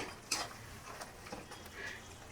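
Mutton frying with added fat while being stirred, giving a soft, steady sizzle with a few light scrapes and taps of the utensil against the pan.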